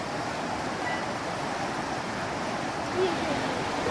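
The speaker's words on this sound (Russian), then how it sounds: "мини-водопадик вдали там." A small waterfall on a river, some distance away, gives a steady broadband rush of falling water that stays even and unbroken for the whole stretch, with no voices over it.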